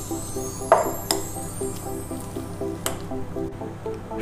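Raw chicken is mixed by hand with chili powder, cumin, salt, lemon juice and ginger-garlic paste, making soft wet squelches and squishes, with a few sharper drips and clicks over quiet background music.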